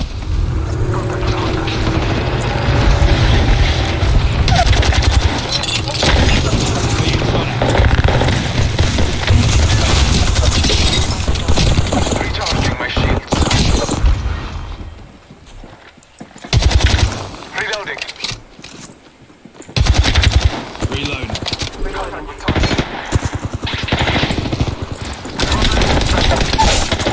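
Bursts of gunfire from the Apex Legends video game in a ranked Season 11 match, loud and dense rapid fire that drops out briefly mid-stretch, then returns amid other game noise and voice chat.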